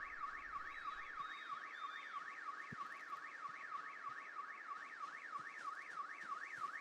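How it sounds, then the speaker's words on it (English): A car alarm in Project Zomboid wails steadily with a fast, regular rising-and-falling tone, loud and continuous throughout, with no voices over it. "Car alarms could still trigger."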